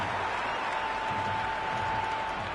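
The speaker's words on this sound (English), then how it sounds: "Will you listen to that crowd?" A loud, dense cricket stadium crowd roars and applauds steadily in a PS5 cricket game, a continuous wash of cheering with a thin steady tone running through it.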